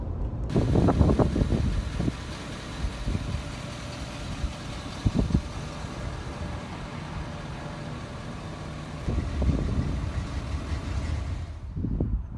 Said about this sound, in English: We got the Ford F250 right behind me, 2017 model